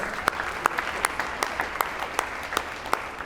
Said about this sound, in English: Please give all of those a round of applause.